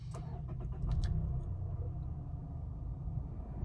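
A Mazda CX-5 engine cranking briefly and catching, then settling into a low, steady idle heard from close by, with a few light clicks near the start.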